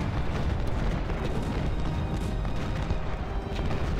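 Continuous rumbling barrage of artillery fire from a Civil War battle in the strategy game Ultimate General: Civil War, dense overlapping booms held at a steady loud level throughout, with no voices.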